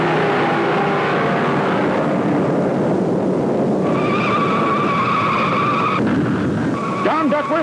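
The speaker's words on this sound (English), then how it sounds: "John Duckworth spins." A stock car spins out during the 1955 Southern 500 NASCAR race at Darlington, its tires squealing in long sustained tones over the loud, continuous roar of racing engines from the surrounding field.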